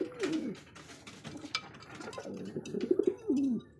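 A male pigeon coos in low, throaty rolling phrases, one at the start and a couple more toward the end, with faint rustling between.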